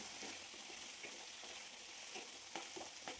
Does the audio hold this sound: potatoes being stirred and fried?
yes